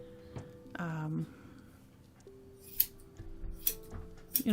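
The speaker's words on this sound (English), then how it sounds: "this is how I trim the top knot" Grooming scissors trim a poodle's topknot with a few quick, close snips near the end, after a brief tonal voice or whine early on and faint background sounds.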